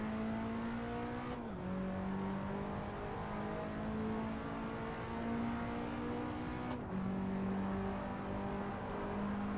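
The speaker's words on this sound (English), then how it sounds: "So let's go for one last flying lap in this Peugeot." Peugeot 206 engine in Assetto Corsa on a flying lap at a track day, a loud sustained drone held high in the revs, dropping sharply at two gear shifts before climbing again, no talk.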